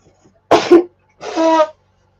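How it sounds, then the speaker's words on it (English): A person sneezes, a sharp breathy burst followed moments later by a second, more voiced sneeze-like outburst, both close and loud against a quiet room. "I've got the sneezes today."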